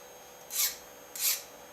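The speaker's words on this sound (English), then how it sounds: "A needle file just skips over it." A needle file skips over a hardened steel vise in two quick, thin rasping strokes, faint and close, with a brief quiet gap between them.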